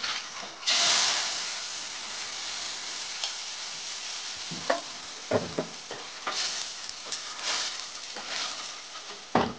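Chili and panch phoron tempering frying in oil, a steady close sizzle with intermittent clacks of a spoon stirring through the pan, no voices.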